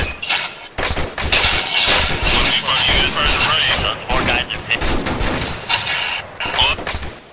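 Dense, continuous gunfire in a military video game: rapid automatic bursts and heavy booming shots, loud and close, mixed with players talking over voice chat.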